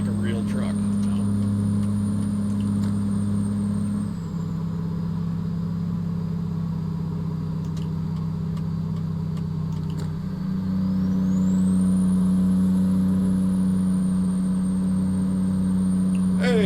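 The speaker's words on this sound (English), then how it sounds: "just the engine sound of this is better than the stock SCS trucks" A truck engine in a trucking simulation game rumbles steadily at a low pitch throughout, with a brief dip in revs partway through before it climbs back. A faint whine sits high above the drone, and a voice may talk over it.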